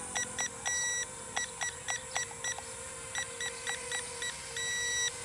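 A drone's remote controller emits a series of short electronic beeps during trim calibration, repeated in quick bursts before settling into a longer solid tone at the end, close and clear over faint background hiss.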